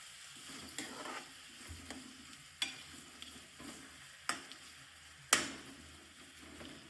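Chopped tomatoes stirred into a garlic curry gravy in a pan: a quiet simmering sizzle with irregular spoon knocks and scrapes, a few sharper taps standing out, close up and without talk.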